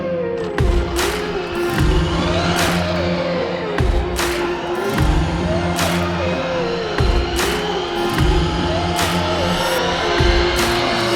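A Traxxas Mini Maxx RC car runs flat out in repeated passes, its high-pitched electric motor whining and sweeping up and down with loud pulses as it rips back and forth.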